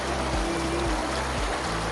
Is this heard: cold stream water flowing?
yes